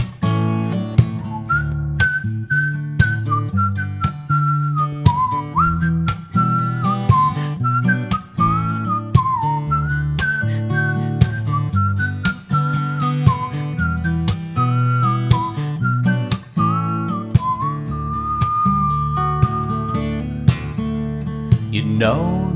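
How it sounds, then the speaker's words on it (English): Whistling at a live concert, a sustained wavering melody carried above a band with steady drums and bass throughout, loud and continuous for the full stretch with no talking. "let's hear you whistling now"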